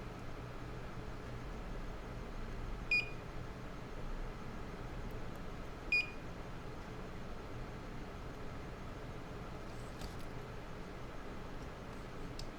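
A circuit tester gives two short, high beeps about three seconds apart while probing an iPhone 6s logic board for a Wi-Fi chip short. The beeps are faint over a steady background hiss.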